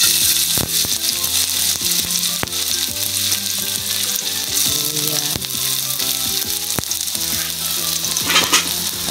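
Sweet and sour sauce with ginger for pampano fish sizzles and fries loudly in a pan, a steady crackle with occasional utensil knocks and stirring clatter, no voices.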